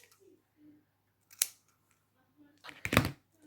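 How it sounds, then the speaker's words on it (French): Scissors snip off the excess rim of a paper cup being crafted into a unicorn, giving two sharp close cuts, a brief one followed by a longer crunchy one, with faint handling noises between. "Je prends là et je coupe ce qui dépasse."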